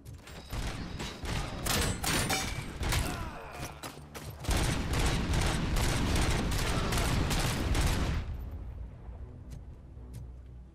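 Gunfire in the video game RoboCop: Rogue City rattles in rapid bursts and dense volleys for about eight seconds, loud and continuous, then cuts off into a quiet tail.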